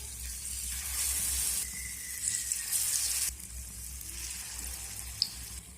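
Potato chops (alur chop) frying in hot oil, a steady close hiss and sizzle that swells and eases in patches, with no one talking.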